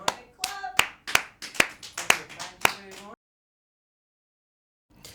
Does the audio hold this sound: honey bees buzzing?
no